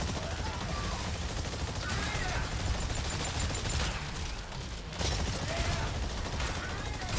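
Rapid gunfire shooting dinosaurs in the video game Exoprimal on PlayStation 5, dense continuous bursts of shots and game effects with a brief lull near the end, under a talking voice.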